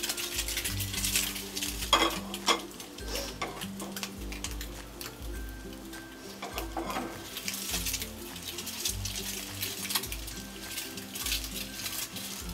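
An egg fries in a pan seasoned with salt and chilli powder, sizzling softly while a utensil stirs and scrapes with repeated clicks and taps against the pan, close and fairly quiet.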